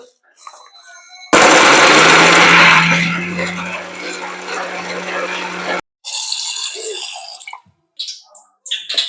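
A mixer grinder whirs loudly while grinding homemade masala spices, a dense steady roar with a motor hum that eases off, then short bursts of grinding with pauses.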